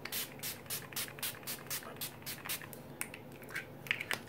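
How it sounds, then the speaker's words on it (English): A rapid series of short, hissing spritzes of Urban Decay All Nighter makeup setting spray, about a dozen quick bursts in a steady rhythm, close and fairly soft. "I'm going to go ahead and spritz myself with some Urban Decay All Nighter Spray."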